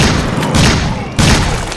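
Desert Eagle pistol fire in a video game lands as two heavy, booming shots about half a second apart, loud and close, each with a rumbling tail.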